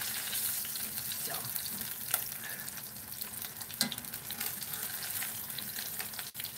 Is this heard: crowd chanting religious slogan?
no